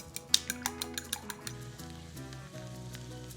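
Eggs seasoned with salt and pepper are scrambled in a pan, giving a soft frying sizzle with a short run of sharp clinks and scrapes of a utensil against the pan early on, then a steady cooking hiss, no talking.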